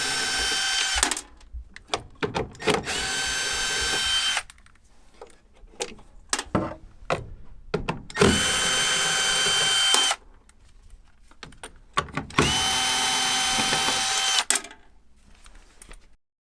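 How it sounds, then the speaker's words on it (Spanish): Power drill backing screws out of the housing of a furnace inducer motor, several close, loud whirring bursts with ratcheting clicks and handling clatter in the pauses between them. "solo tengo que sacar todos los tornillos que aguantan la carcasa del motor del inductor"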